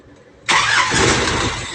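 A car engine starts with the ignition key, a faint quiet lead-in followed by an abrupt loud catch into a steady, strong running roar close by.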